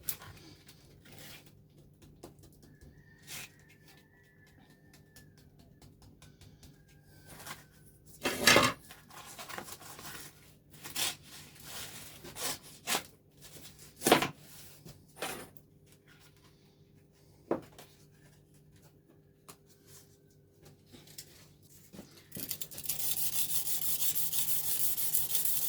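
A chef knife blade is sanded by hand, producing scattered rubbing strokes and scraping clicks of varying loudness. A louder, steady hiss comes in near the end.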